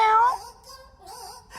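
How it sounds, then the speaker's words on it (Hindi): A pet cat gives a short, rising-then-falling meow up close, followed by a softer vocal murmur, heard alone in a quiet room. "मेरी बिल्ली।"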